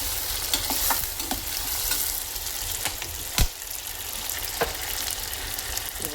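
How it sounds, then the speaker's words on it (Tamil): Tomatoes sautéing and being stirred in a pan for a dried-fish curry: a steady, close sizzle runs throughout, with scattered scraping stirs and one sharper clack near the middle, and no talking. "நல்லா தக்காளியை நல்லா வதக்கணும்."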